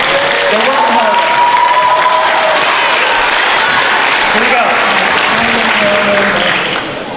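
Loud, steady applause from a school winter showcase audience, thanking the tech crew, with scattered cheers and a couple of voices talking over it, tapering slightly at the end.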